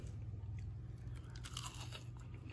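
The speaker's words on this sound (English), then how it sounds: "We got our tomato, it's fried nice and crispy." Close, crisp crunching of a bite into a fried green tomato, followed by steady chewing with no talk.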